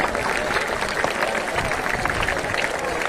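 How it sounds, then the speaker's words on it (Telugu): An audience at a university engineering event applauds, a dense, steady wash of clapping that stays even and sustained throughout. "ఓంప్రకాష్ చేసిన ఎఫర్ట్ మీరందరూ చప్పట్లు కొట్టి ఎంకరేజ్ చేయండి"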